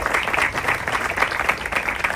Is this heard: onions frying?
no